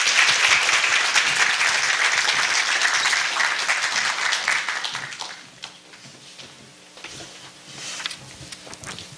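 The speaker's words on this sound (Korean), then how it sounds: "뜨거운 박수로 맞이해 주시기 바랍니다" An audience at a university graduate school celebration applauds to welcome the university president, the dense clapping loud at first, then thinning to scattered claps as the room settles.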